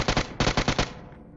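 Loud close bursts of gunfire in the PUBG Mobile video game, a rapid string of booming reports in two quick clusters with a short echoing tail.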